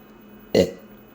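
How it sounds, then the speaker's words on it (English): A single short, fairly loud burp rising out of near silence and fading within a quarter second. "That wasn't a very good burp, I must admit."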